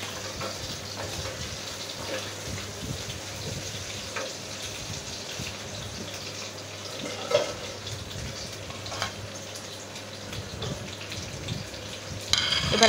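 Shrimp, onion and chopped garlic fry in a pan, a soft continuous sizzle with scattered pops and a few scraping stirs, fairly quiet and close, louder clatter near the end.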